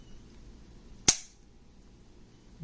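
A single sharp dry-fire trigger break on an HK P2000SK compact pistol in single action, one crisp close click standing alone against a quiet room.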